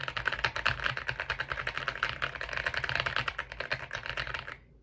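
Rapid, steady typing on an Aula F75 mechanical keyboard, dense close-up keystrokes clacking continuously for several seconds before stopping abruptly, with no talking.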